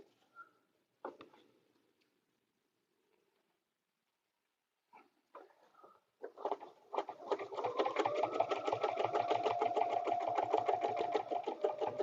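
Sewing machine stitching a paper-pieced butterfly dresser scarf. After a few faint handling noises and a quiet pause, the motor starts and runs in a steady, close, buzzing whir of rapid stitches to the end.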